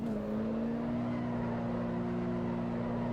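A car held in a handbrake drift in Assetto Corsa EVO, its engine droning loud and close at a nearly constant high pitch that creeps slightly upward, with no voices.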